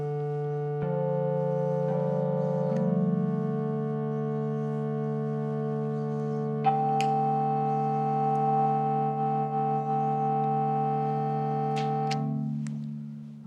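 A Korg electronic resonator instrument with tremolo plays long sustained tones that step to new pitches a few times, ringing continuously and alone before tapering off at the end.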